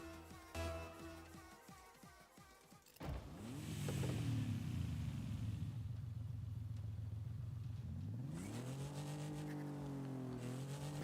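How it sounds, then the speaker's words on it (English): A Porsche engine in a racing video game, idling with a low rumble before revving up and holding steady at high revs, then rising again near the end, loud and close with no talk. "No, I'm gonna get the Porsche. Has a really nice sound."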